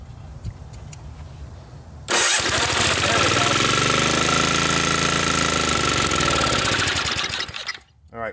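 Engine of a 1965 Ariens snowblower with a suspected blown engine and throttle trouble, starting abruptly after a quiet stretch and running loud and steady at close range with a buzzing rattle, then cutting out near the end.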